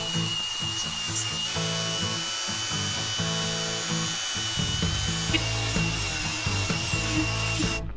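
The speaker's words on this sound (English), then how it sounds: "I'm going to start sanding the sides down." Steady, continuous abrasive sanding of car body panels with a mechanical whine and rubbing texture, close by and uninterrupted for the whole stretch.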